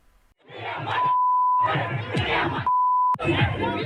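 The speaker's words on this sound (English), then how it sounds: "they screamed insults that are too vicious to broadcast" An angry crowd gathered in a Muslim area during Ramadan shouts and jeers in loud, dense bursts, with long steady censor beeps covering the insults between the outbursts.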